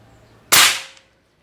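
A Bulldog OD 38 V2 PCP air rifle with a suppressor fires one sharp, close crack that decays quickly into silence.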